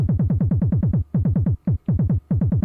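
Looped drum pattern from an Arturia Pigments synth sequencer, punchy repeated hits in a steady fast rhythm with brief gaps between bars, loud and close with no voices.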